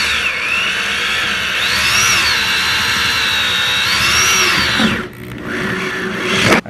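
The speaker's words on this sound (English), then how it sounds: "I drilled it with a number 17." A drill with a number 17 bit bores a hole during a Husqvarna 142 chainsaw fuel line repair, a loud, steady whine that rises and falls in pitch, briefly cutting out before spinning up again.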